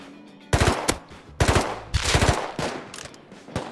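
Gunfire in the survival game Rust comes as sharp, loud bursts of rapid automatic shots, several volleys in quick succession with short gaps between them.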